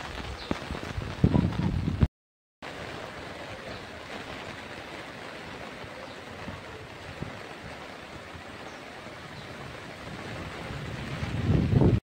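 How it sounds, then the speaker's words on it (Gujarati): Heavy rain in Dwarka during extreme flooding makes a dense, steady roar of falling water that fills the whole stretch, with a brief dropout near the start and louder rumbling gusts at the beginning and end. "તો આજે દ્વારકામાં આટલો વરસાદ પડ્યો ને વાત જ ના પૂછો."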